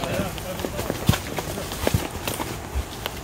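Horse hooves clip-clop along a trail near Jarabacoa in the Dominican Republic, a loose run of soft, uneven knocks with voices murmuring in the background.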